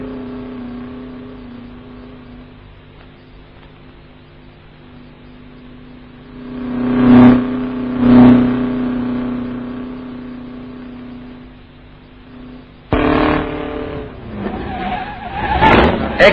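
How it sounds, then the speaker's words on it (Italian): Gilera Rondine record vehicle accelerating on the Brescia-Bergamo straight, its engine roar swelling loud in two close surges and returning later, on thin, muffled old film sound with a steady background hum. "il pilota torna a curvarsi rilanciando la macchina"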